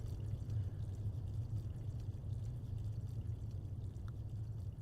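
Water runs steadily in a horror video game, a low, continuous pouring rush that holds unbroken for about five seconds with no talk over it.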